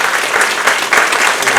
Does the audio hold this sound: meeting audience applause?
yes